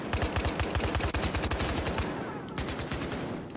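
Rapid automatic gunfire fills a Battlefield Hardline multiplayer match, a loud, steady stream of shots with a brief break partway through before the firing picks up again.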